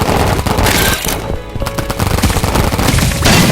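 Loud, continuous rapid-fire paintball gunfire in a video game, with dense overlapping shots and bursts running throughout and no talk.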